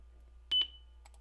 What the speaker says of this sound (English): the beep was loud